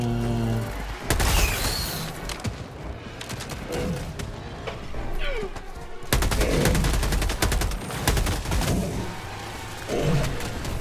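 Bursts of rapid gunfire and booming grenade blasts from the Helldivers video game, loud and close, with heavy impacts around one and six seconds and shooting continuing between them.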